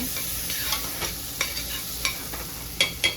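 Chickpea curry being stirred in a pan, a spoon scraping and clinking at intervals over a steady soft sizzle, close and fairly quiet with no voices.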